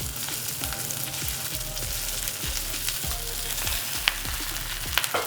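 Pieces of masala idli are tossed and mixed in a frying pan, with a continuous loud sizzle and repeated scraping strokes of a spoon against the pan.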